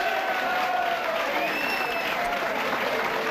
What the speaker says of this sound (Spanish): Ahí están los aplausos de los hinchas de Racing para Esteves.